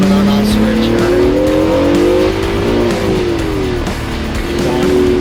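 Race car on a racetrack, engine droning loudly with pitch rising and dipping as it brakes and accelerates, close and continuous with a faint tire squeal.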